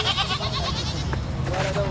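A goat bleats several times in quick wavering cries, close and fairly loud, over background noise with people talking.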